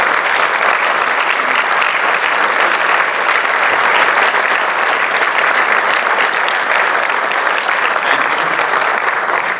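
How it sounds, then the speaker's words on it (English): A large audience at a State of the City address gives sustained, dense applause for the council and city staff, a loud, even wash of clapping that continues unbroken for nearly ten seconds. "Give them a round of applause."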